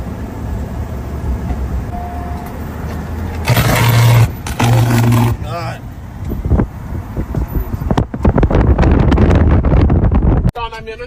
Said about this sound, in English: John, I'm in a tornado right now.